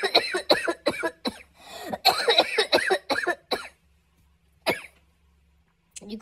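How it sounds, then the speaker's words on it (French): Repeated harsh coughing from a woman sick with Covid, a rapid series of close, loud coughs in bursts, then a pause and a couple of isolated coughs near the end. "Je fais que de tousser tout le temps."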